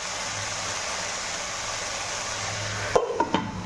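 Ridge gourd, potato and soya chunks cooking in a pan with a steady close hiss, then a few louder scrapes and knocks of stirring near the end.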